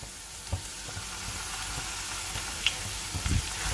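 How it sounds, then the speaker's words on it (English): Bhuna masala fries in a pan for a paneer curry, making a soft steady sizzle with a few faint stirring knocks and no talking. "So I am going to add around 4 tablespoons of bhuna masala now."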